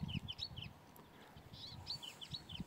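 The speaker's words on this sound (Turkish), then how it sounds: "Bu muhteşem ses bu güzel kuşa arkadaşlar ait." Outdoors in nature, a bird sings in short bright repeated whistled phrases, clear and fairly near, while soft low rustling or thumping runs underneath.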